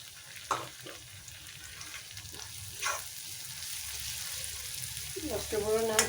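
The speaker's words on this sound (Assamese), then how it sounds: "ভাজিছোঁ খুতুৰা শাক।" Khutura greens frying in a pan, a low continuous sizzle with occasional stirring scrapes, and a faint voice or background sounds breaking in now and then.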